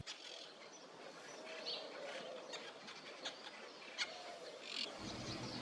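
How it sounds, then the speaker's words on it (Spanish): A fork-tailed flycatcher calls near a lakeshore at Guaminí, Argentina, giving faint, brief chirps scattered over a steady outdoor background hiss. "Es la tijereta, un inconfundible pájaro de cola extremadamente larga."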